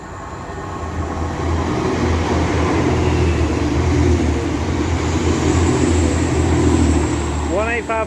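A pair of coupled Class 185 diesel multiple units runs past at Castleton, Saltburn to Manchester Piccadilly service, a loud, steady rumble and engine drone holding near throughout, with a brief rising whine near the end.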